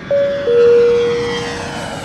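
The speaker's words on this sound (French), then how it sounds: "Prêt pour le décollage." An airplane taking off, its engine roar building into a loud, steady rush with a sustained tone that holds and then slowly fades, with no voices.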